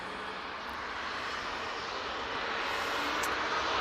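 An EasyJet airliner departs Manchester Airport for Rennes, its jet engines a steady broad roar heard from a distance and slowly building over a few seconds, with no talk.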